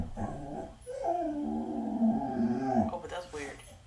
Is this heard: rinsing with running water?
no